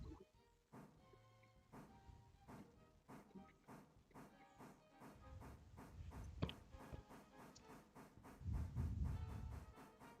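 In the Railroader video game, a train backs up with a regular clacking of wheels over rail joints, evenly spaced and gradually quickening, under a low rumble and hiss that swell toward the end.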